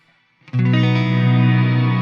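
Strymon reverb pedal set to shimmer at a fifth interval: a sustained, loud guitar chord swells in after a brief quiet start, carrying bright, layered harmonic shimmer and wash that holds steadily to the end.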